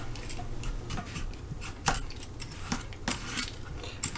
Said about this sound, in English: Now we're going to slice the beets